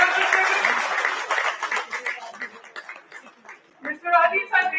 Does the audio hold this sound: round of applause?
yes